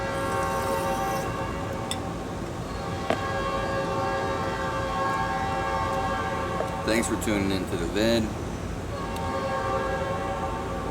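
A passing train sounds its horn in a couple of wavering blasts partway through, over a steady background rumble while a person talks nearby.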